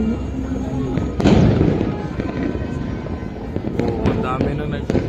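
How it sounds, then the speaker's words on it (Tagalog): Fireworks go off around an urban neighborhood, a burst of loud sharp bangs and crackles early on followed by scattered distant pops, with people talking throughout. "Oh, ang dami na nag-fireworks."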